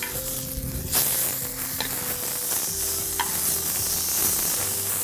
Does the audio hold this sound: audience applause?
no